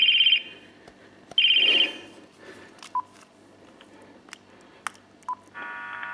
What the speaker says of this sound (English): see, now it's ringing